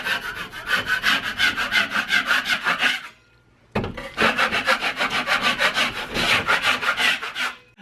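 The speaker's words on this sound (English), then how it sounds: "What we can do for those lines is just take a taping knife and just scrape them off." Taping knife scraping dried trowel lines off drywall compound on a damaged wall repair, a loud, close, rhythmic rasping in quick back-and-forth strokes, briefly pausing before resuming, with no talking.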